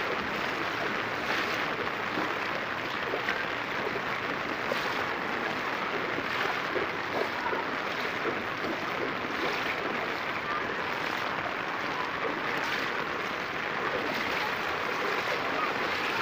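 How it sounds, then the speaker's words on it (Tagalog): Strong floodwater rushing steadily nearby, a broad continuous roar and wash that holds even throughout, with no clear voices over it. "Yan, lakas ng tubig."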